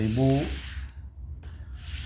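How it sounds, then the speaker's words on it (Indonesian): Sandpaper rubs across a rusty machete blade in short, close abrasive strokes, a soft hissing scrape heard after a brief burst of speech. "ini juga kalau pakai amplas seperti ini juga bisa sekalian ngasah dari bilahnya"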